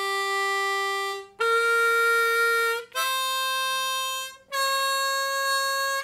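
A harmonica plays a blues scale in second position, with a bent four-draw passing tone among the notes. Four sustained reedy tones follow one another with brief breaks, loud and close, and no voice is heard.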